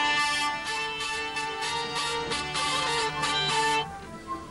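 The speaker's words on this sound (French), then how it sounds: "La vielle pour la bourrée à 2 temps," A hurdy-gurdy plays a two-beat bourrée for folk dancing, its buzzing drone held under a bright, rhythmic melody with regular pulsing strokes, loud and close, ending as the drone rings on alone.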